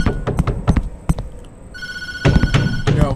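A telephone rings in the Tattletail horror video game, with repeated bursts of electronic ringing near and loud, along with thumps and other game noises, a louder ring cluster toward the end.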